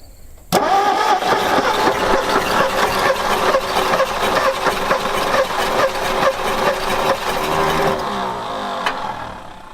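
Old panel truck engine, abandoned for 40 years, cranking and catching roughly while misfiring on some cylinders, a loud continuous uneven chugging that runs for several seconds before easing off, with no talk.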